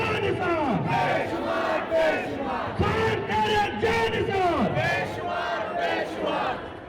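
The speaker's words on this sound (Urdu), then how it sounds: "فضا امپورٹڈ حکومت نامنظور کے نعروں سے گونجتی رہی" Protesters outside the Avenfield flats in London chant slogans against an imported government, a dense crowd of raised voices shouting in rhythmic, repeated bursts, loud and close throughout.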